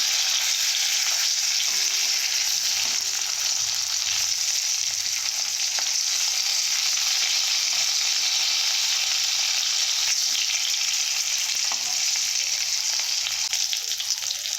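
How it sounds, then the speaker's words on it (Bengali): Two pieces of rohu fish fry in hot oil, giving a steady, dense sizzle that holds evenly from start to finish, close and fairly loud with only faint clinks. "দু পিস মাছ ভেজে নেব ভালো করে"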